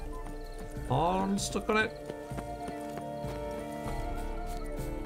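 A horse in The Witcher 3: Blood and Wine gives a short, clear whinny near the start, followed by quieter game sounds, while someone talks over it.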